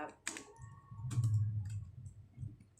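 Someone types commands into a computer keyboard in a network switch command-line setup, giving a few faint, scattered key clicks in a quiet room.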